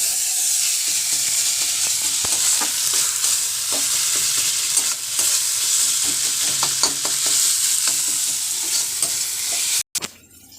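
Chicken masala sautéed in a pan, with a continuous loud sizzle and frequent clicks and scrapes of stirring, close up and without talk, cutting off abruptly near the end.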